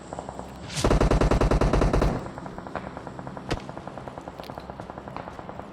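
Automatic gunfire in the mobile battle royale game PUBG Mobile: a loud, rapid burst of about a second and a half, followed by a quieter stream of distant shots and one sharp single crack.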